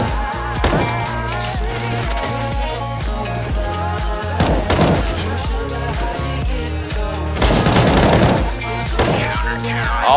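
Rapid bursts of video game gunfire crackle continuously over a dense, loud mix of music and game effects at a DreamHack Winter 2016 tournament, without any speech.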